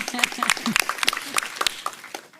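Audience clapping at a NATO public forum panel introduction, a dense patter of hands in a hall, with voices speaking over the applause.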